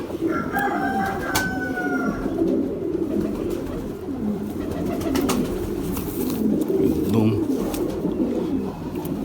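Pigeons of the Sialkoti breed coo softly in a loft, a steady low murmur continuing throughout with a few brief higher bird calls near the start, and no talk over it.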